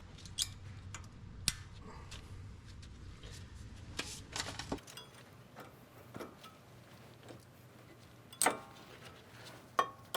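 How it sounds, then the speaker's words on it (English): Anti-rattle clips snapping into place on a Ram 2500/3500 front brake caliper, heard as a few sharp metallic clicks and ticks scattered over quiet shop background. "we're going to put our anti-rattle clips in. Flat side goes up towards the rotor, and they just snap back into place"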